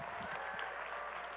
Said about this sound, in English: Another big round of applause for Lila Williamson, everyone.